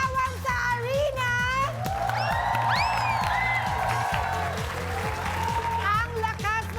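A studio audience at a Filipino celebrity game show cheers and applauds in a swelling roar, while excited voices and whoops ring out over the crowd.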